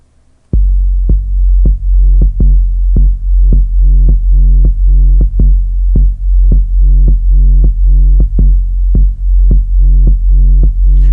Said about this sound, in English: if I play it, it's going to overlap and sound distorted